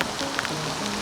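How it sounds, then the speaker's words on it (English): Heavy rain from Hurricane Milton pours down in a dense, continuous patter and hiss close by, with a few sharper drops and no voices. "So much rain."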